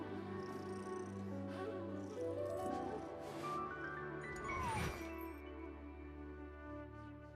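A cat purrs softly in Genshin Impact, a low steady rumble running through the whole stretch under layered game music, with a brief chime near the middle.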